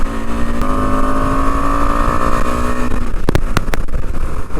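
A KTM Adventure 250 motorcycle with a 248.8 cc DOHC four-valve, four-stroke, liquid-cooled engine, running at a steady, close hum for about three seconds, followed by a few sharp mechanical clicks.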